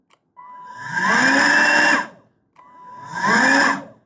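An electric blower motor fitted to a modified Poulan 4620 chainsaw runs in two bursts, each spinning up to a steady high whine, winding down to silence, then starting again.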